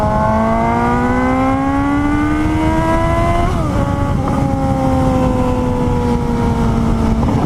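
A 2018 Suzuki GSX-S 750 motorcycle pulls away and accelerates through the gears, its engine note climbing steadily, dipping at a shift, then holding a loud, close, continuous drone under steady wind noise.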